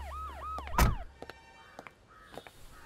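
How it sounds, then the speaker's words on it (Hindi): A wailing siren from an emergency vehicle in a busy market street, rising and falling in repeated sweeps over the first second before a loud thump, then fading into scattered short calls and background noise. "यहाँ तो सायरन भी बजने लगी"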